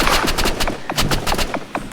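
Rapid bursts of gunfire in the mobile shooting game Rivals, a string of sharp repeated shots in quick uneven rhythm, loud and continuous without talk.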